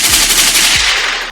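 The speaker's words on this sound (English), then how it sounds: "Little gunshots." Rapid bursts of gunfire ring out close and loud, a continuous rattling volley like a machine gun that fills the whole moment before cutting off abruptly.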